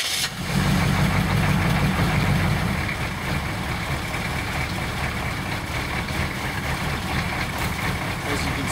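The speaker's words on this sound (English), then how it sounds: "the engine started right up at 10 to 15 degrees Fahrenheit" A diesel engine burning a blend of 80% vegetable oil and 20% gasoline cranks and catches in roughly 10 to 15 °F cold, then settles into a steady, loud, close idle that runs on without a break.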